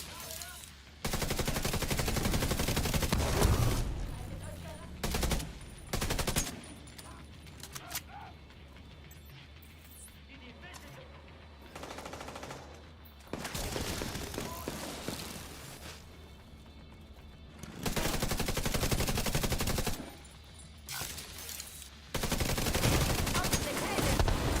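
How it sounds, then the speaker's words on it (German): A Gatling gun in The Division 2 rattles off in loud, sustained bursts that stop and start repeatedly, with gaps of quieter game noise between them. "Gatling Gun, ja."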